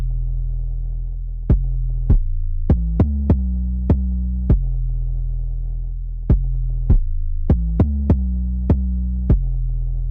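Deep sustained 808 bass notes from an Afrobeat beat, set against sharp kick-like transients that duck the bass in a side-chained pumping pattern, loud and clean with no voices.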